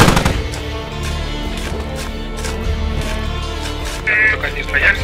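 TOW anti-tank missile launches and gunfire in the video game Squad, loud booming shots with a rumbling tail while rapid weapon fire rattles underneath and players talk over the noise.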